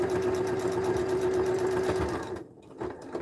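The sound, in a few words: sewing machine top stitching fabric gift wrap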